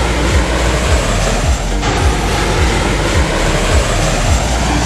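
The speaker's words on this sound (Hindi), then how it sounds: "भारत का देशी लड़ाकू विमान, हल्का, तेज और घातक" Indian Tejas light combat fighter jet, a loud steady engine roar with a broadband rushing wash and low rumble, sustained and close throughout with no voices.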